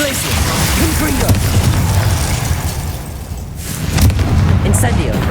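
A Confringo blasting curse detonates in Hogwarts Legacy, a loud rumbling explosion with crackling debris, followed by another booming burst amid spell effects and game ambience.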